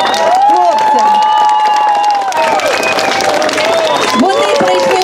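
Audience at an awards ceremony breaking into sustained applause, with clapping mixed with cheering voices and crowd noise, loud and continuous.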